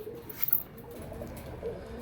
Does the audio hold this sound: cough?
no